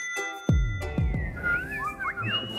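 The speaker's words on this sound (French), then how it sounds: "On vous accueille en sifflant." A person whistles a lively, sliding melody of rising and falling notes to greet a guest, with a few sharp knocks or thuds at the start, close and clear over a faint room background.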